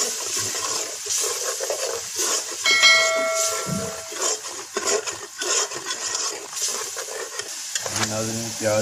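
Ground paste of two onions frying in a pan for Punjabi arbi salan, a steady sizzle with stirring and scraping throughout, briefly joined by a tonal clink near three seconds and a low hum toward the end.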